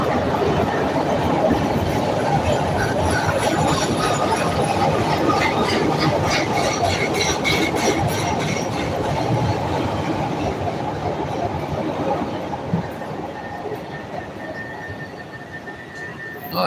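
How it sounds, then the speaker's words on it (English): A CTA Brown Line elevated train bound southbound for the Loop rolls into a Chicago station with loud, continuous rumbling and rhythmic clacking of wheels over rail joints, fading slightly toward the end. "We got a brown line incoming southbound brown line"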